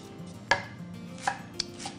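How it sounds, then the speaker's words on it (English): A big knife peeling the outer skin off a halved celeriac, giving a few sharp, separate cuts against a board at an even pace with quiet gaps between them. "I'm going to peel that outside off there"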